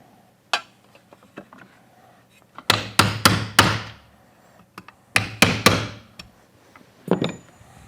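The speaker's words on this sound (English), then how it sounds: "we'll just punch out the rivets, anything left in the holes" Sharp hammer blows punch out old rivets on a Ford Bronco vent weatherstrip frame, coming in close, loud bursts of three or four quick strikes separated by short pauses.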